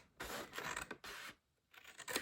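Scissors snipping paper into a box shape, with around three bursts of crisp cutting separated by short pauses, close and fairly quiet.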